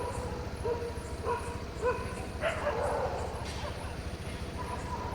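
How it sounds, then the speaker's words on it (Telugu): Street dogs near a hospital yip and bark in short bursts at a moderate distance, under a low steady background rumble. "చూడండి ఇక్కడ ఒక 4 కుక్కలు."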